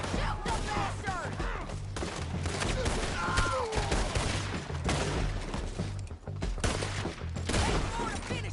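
Red Dead Redemption 2 gunfight at a bridge: repeated rifle and pistol shots crack in irregular bursts, some close and some distant, over a rumbling backdrop and game ambience, with voices shouting in between.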